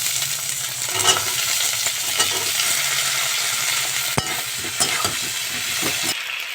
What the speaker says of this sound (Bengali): আলুগুলো দিয়ে একটু নেড়ে চেড়ে নিয়েছি